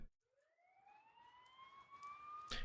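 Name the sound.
sirens nearby in the video game Persona 4 Golden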